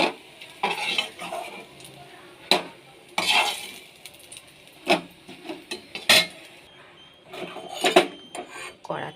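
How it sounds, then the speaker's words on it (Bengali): Eggplant slices sizzle in hot oil in a wok, broken by sharp scrapes and clinks of a metal spatula lifting pieces out, the frying hiss continuing between the louder strokes. "বেগুনটা ভাজা হয়ে গেছে, বেগুনটা তুলে নেব।"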